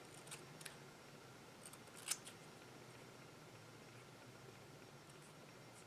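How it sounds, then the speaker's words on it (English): Scissors make several small quiet snips, trimming the dark edges off paper for a tiny handmade book against a soft hiss, with one sharper cut near the middle. "And I'm going to cut off these dark edges here."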